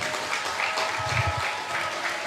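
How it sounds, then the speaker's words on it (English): An audience at a summer course closing ceremony applauds a lecturer with sustained, loud clapping from a sizable crowd, steady throughout with a brief low thump in the middle. "ladies and gentlemen, let's give her a big round of applause"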